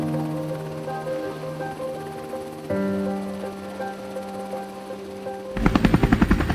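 A Navy helicopter over the sea during door-gunner drone target practice: a steady droning rotor and engine hum, then a sudden loud, rapid burst of machine-gun fire close by.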